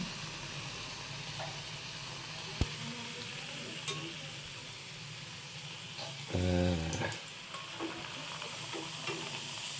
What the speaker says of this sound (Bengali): লুচিগুলো ভাজা হচ্ছে